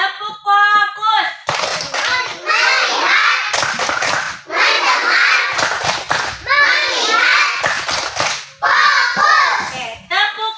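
Children in an Indonesian classroom perform a focus clap routine, repeated bursts of group clapping woven with chanting voices, with a teacher speaking at the start.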